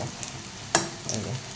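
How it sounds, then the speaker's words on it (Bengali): Cauliflower fritters in gram-flour batter fry in oil, a faint, steady sizzle with one sharp clink of a utensil partway through. "ফুলকপির বড়া ভাজা চলছে।"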